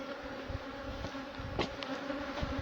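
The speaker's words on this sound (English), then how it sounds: "Quite a lot of the bees are gonna come back this way." Honey bees buzz around a hive box with a soft, steady, droning hum and a few louder passes as single bees fly close, with no talking.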